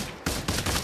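Gunfire in the VR shooter Pavlov, on the Shack beta map: a quick burst of three close, loud shots in under a second, one right after another.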